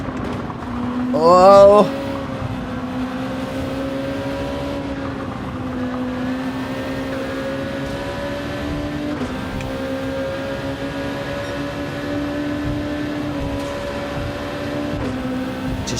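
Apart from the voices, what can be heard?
Mercedes CLK race car engine in Gran Turismo 7 video game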